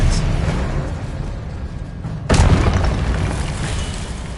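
Spell combat in the Hogwarts Legacy video game: a low rumbling backdrop broken by one sharp, loud blast burst midway that booms and fades.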